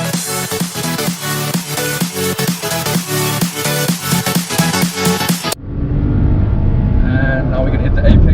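A 2018 Renault Sandero accelerates hard during an acceleration test, its engine and road noise surging loudly for the final few seconds after a stretch of music.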